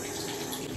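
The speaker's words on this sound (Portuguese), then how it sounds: "Eu quero saber onde que é a água quente." Hotel tap water running steadily, a dense continuous rush close by with no talk over it.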